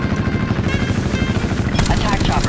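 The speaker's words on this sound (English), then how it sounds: "Attack chopper standing by." In the video game Black Ops 4, an attack helicopter drones with a steady, loud rotor thump beneath game voice lines and bursts of gunfire.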